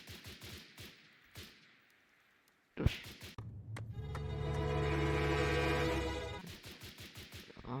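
Automatic fire from an STGW 07 K rifle in the video game BRM5: scattered shots, then a long sustained burst for about two and a half seconds, followed by more spaced single shots, loud and close.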